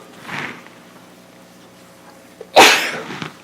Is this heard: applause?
no